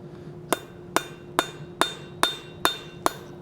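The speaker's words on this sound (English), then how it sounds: "I'm going to use my cross peen to draw things out in a circle" Cross peen hammer striking hot steel on an anvil at a blacksmith's forge, seven sharp ringing blows in an even, steady rhythm, close and clear with short metallic decay between hits.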